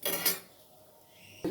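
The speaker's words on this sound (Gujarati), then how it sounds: "હવે આપણે કુકર બંધ કરી દઈએ।" Pressure cooker lid clanks shut over potatoes, two sharp metallic knocks close together at the start, a quiet pause, then another clatter at the end.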